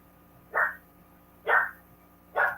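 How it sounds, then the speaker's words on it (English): A dog perched on the back of a couch gives three evenly spaced, sharp barks about a second apart, close and loud in an otherwise quiet indoor room. "He likes to sit on the back of the couch and bark at something."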